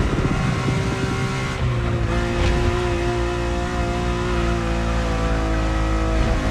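Ferrari supercar engine in The Crew Motorfest, heard from inside the cabin as a steady, loud, harmonically rich drone that holds near-constant pitch throughout, with no talk.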